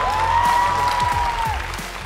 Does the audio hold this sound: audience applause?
yes